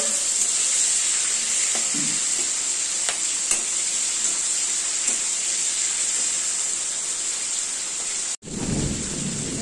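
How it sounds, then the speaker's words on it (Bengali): Giant river prawns fry lightly in oil, a steady close sizzle with scattered pops lasting several seconds, briefly cut off near the end before resuming. "গলদা চিংড়িটা পুরো ভাজা হয়ে গেলে তাকে নামিয়ে নেবো।"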